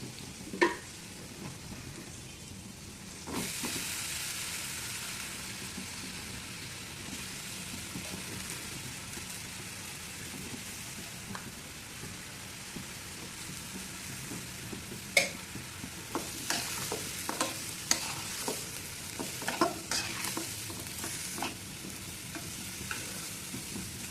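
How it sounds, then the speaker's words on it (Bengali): Spices frying in a pan for a shrimp and eggplant curry, a continuous low sizzle with scattered stirring clinks and scrapes. "মশলাগুলো কষে আসছে এখন বেগুনগুলো দিয়ে দিব"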